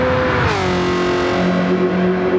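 Garage 56 NASCAR Camaro ZL1 with a V8 and racing exhaust at full throttle on a Le Mans circuit back straight, a loud, sustained engine roar with rising and steadying harmonic pitch, close and continuous with no talk.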